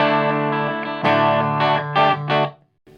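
Electric guitar played clean through the neck pickup with volume and tone turned low and no pedals, a sustained chord followed by several short strummed chords in quick succession, ringing out and then cut off.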